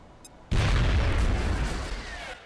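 A single heavy AP grenade blast in the turn-based strategy game XCOM: Enemy Within, with a sudden loud booming onset followed by a long rumbling decay, close and alone with no talk.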